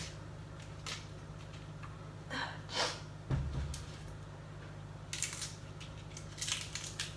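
Salad leaves torn apart by hand in a home kitchen, giving scattered crisp rips and crunchy snaps at irregular intervals over a low steady hum, with no talking.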